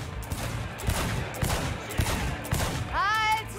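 Rapid automatic gunfire from a DR5 Nova assault rifle in Cyberpunk 2077, several quick bursts of sharp shots followed by a brief whistling, chirping effect at the end.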